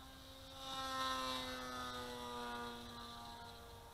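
An E-flite P-51D Mustang 280 electric RC plane flies at wide open throttle, its steady high motor whine swelling as it passes and then fading slightly, alone without talk.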